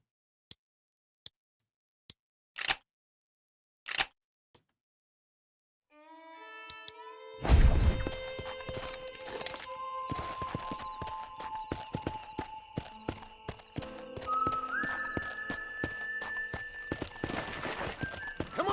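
A horse in Red Dead Redemption gallops in a quick, steady clip-clop of hooves after a few sparse separate knocks, with rhythmic game effects and tones layered over the pounding hoofbeats.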